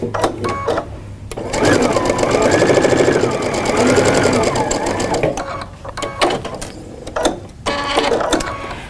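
A sewing machine runs close and loud through a quilting seam on a gingerbread-themed quilt, in bursts of rapid whirring stitching broken by short pauses and mechanical clicks.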